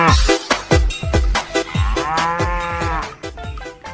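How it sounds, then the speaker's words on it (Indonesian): A water buffalo gives a long, loud, close mooing call, preceded by a rapid series of knocking thumps, with no voices heard. "Ini namanya kerbau."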